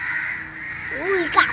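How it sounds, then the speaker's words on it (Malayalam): A crow caws once, close and clear, near the end of the clip over a steady outdoor background hum. "ആ കാക്ക അവിടെ എന്തോ ഇട്ടിക്കണ"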